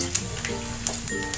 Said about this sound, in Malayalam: നന്നായിട്ടൊന്ന് ഫ്രൈ ചെയ്തെടുക്കാം.